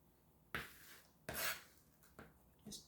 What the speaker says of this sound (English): Just chopping it down as fine as I can get it